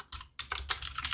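Quick keystrokes on a computer keyboard, a short close burst of several distinct clicks typed in a rapid uneven rhythm, with no talking.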